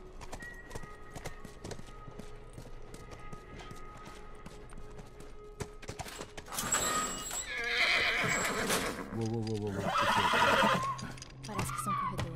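In the video game The Last of Us, a horse snorts and neighs loudly amid clip-clopping hooves, with quiet speech earlier and a burst of whinnying building near the end.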